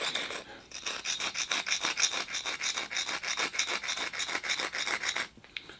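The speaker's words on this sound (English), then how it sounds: "Luckily the cement is still soft, so it's quite easy to file away" Rhythmic rasping strokes of a file scraping soft, not-yet-hardened cement on a miniature bonsai temple piece, steady and close for about five seconds before stopping.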